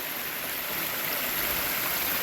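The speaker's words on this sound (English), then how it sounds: "basically just the creek running down the hillside into the lake" Creek water running down a hillside into a lake, a steady close rushing and gurgling flow that fills the whole moment without a break.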